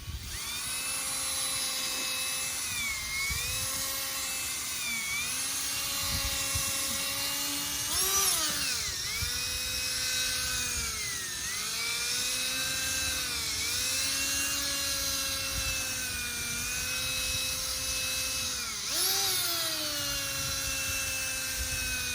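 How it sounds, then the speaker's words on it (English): A power drill with a polishing pad whines steadily throughout while restoring a headlight, its pitch sagging and recovering as pressure changes, with a faint buzzing rub of the pad. No one speaks. "The drill kind of just wants to walk away from you."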